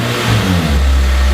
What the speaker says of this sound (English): That is the first time I have ever bought an engine and it's fine.